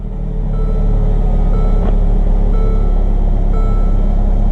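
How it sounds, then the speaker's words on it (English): Mercedes-Benz CLA 250 with a disconnected auxiliary battery; the engine catches around two seconds in and settles into a steady, fairly loud idle rumble that continues to the end, with no talking. "You can see start the car up."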